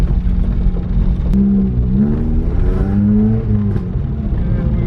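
Engine of a Mk1 Ford Fiesta with a Honda VTEC swap, droning loudly and steadily close by with rising revs and a rough rumbling edge, the crackle and pop of the exhaust not clearly distinct.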